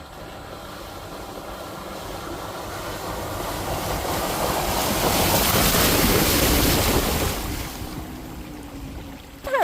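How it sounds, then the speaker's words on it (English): Clear creek water in West Virginia rushes in a steady, broad wash that swells louder through the middle and eases off near the end, close and continuous with no talking. "this creek is the first one, other than the Gauley that we went to this morning,"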